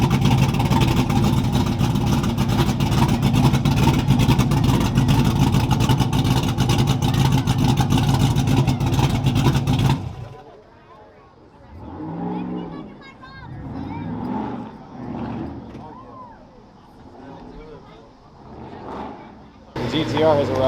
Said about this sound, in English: The GTR has arrived.